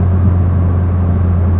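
A turbocharged car engine holds around 3,000 RPM under boost on the road, a loud, steady low drone with a constant whirring tone and no voices over it.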